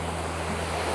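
Sea waves washing onto the North Cyprus shore in early tourist season, a steady broad wash of surf with some wind noise, continuous and fairly close, no voices.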